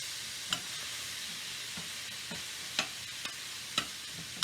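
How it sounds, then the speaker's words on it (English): Peppers, onions, carrots and cabbage sizzle quietly in a pan, a soft steady hiss broken by several sharp scraping stirs. "All these veggies are definitely cooking down nicely."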